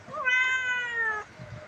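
A single clear, high kitten meow, drawn out for about a second, close and alone in a quiet room.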